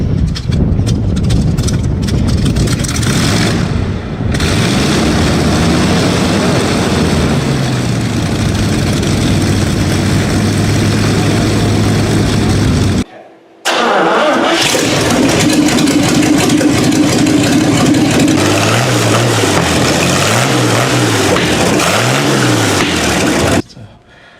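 A GMC V12 truck engine runs with a deep, rumbling drone reminiscent of a World War II Spitfire, loud and close, its pitch shifting as revs rise and fall; it cuts out briefly mid-way, then resumes before stopping near the end.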